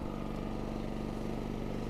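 A WEN 56380i 3800-watt inverter generator engine drones steadily up close after ramping up on high, a low, even, pulsing hum that holds constant throughout, no voices.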